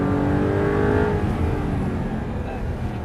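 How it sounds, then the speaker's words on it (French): Audi R8 V8 engine at full throttle, heard from inside the car as a loud, steady roar with rising harmonic tones that hold across the whole stretch, with no talk over it. "maintenant on accélère, on est à fond"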